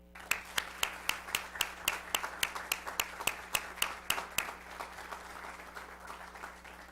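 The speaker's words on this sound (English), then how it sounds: "please join me one last time for a round of applause for Mayor Pettit" A small audience at a North Augusta city council meeting gives a round of applause for the departing mayor, a sparse group clapping in a fairly even rhythm that fades out after about four seconds over a low room hum.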